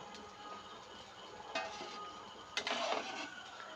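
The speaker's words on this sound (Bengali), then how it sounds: "সেই ঘিয়ের মধ্যেই আমরা সিমুইগুলোকেও হালকা করে ভেজে নেব।" Vermicelli (simai) stirred in hot ghee in a pan gives a soft sizzle under faint scraping, with two brief louder clatters of utensil against the pan.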